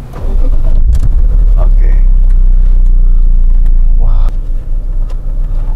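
BMW M3 convertible engine cranking and firing up, then settling into a steady low rumbling run, with brief talk over it and the note dropping slightly near the end.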